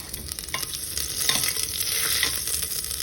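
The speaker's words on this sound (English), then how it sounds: "Then I put the garlic and ginger, and let it get a little brown so you get the burnt garlic ginger flavor." Garlic and ginger sizzle in hot vegetable oil in a pan, a steady crackling fry with scraping stir strokes, fairly close and without talk.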